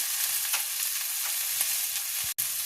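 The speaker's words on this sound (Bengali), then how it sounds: "1/2 চামচ সয়া সস দিয়ে দিলাম।" Vetki fish fillets sizzle steadily in a hot frying pan as soy sauce goes in, a continuous bright hiss with faint stirring clicks, close and without talk.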